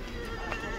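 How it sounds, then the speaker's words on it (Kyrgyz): A large tall horse at a horse market gives a faint, distant whinny amid steady background market noise. "Мына жерде эң чоң ат бар экен, базардын эң алдыңкы аты."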